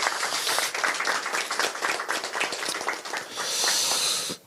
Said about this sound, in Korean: 여러분 큰 응원의 박수를 부탁드리겠습니다